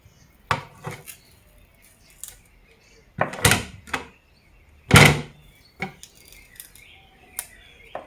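A kitchen knife chops the tops off carrots on a board in a village kitchen, giving a handful of sharp, separate knocks and clacks spaced irregularly, close by, with quiet gaps between them.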